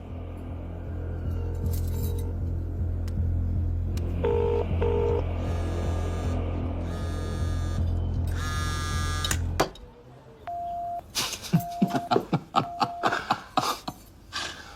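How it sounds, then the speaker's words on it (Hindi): Telephone dialing over a speakerphone in a Hindi action film: a run of keypad tones and electronic beeps over a low hum, then ringback-style tones and clicks after the hum cuts out. "चल फोन लगा उसे।"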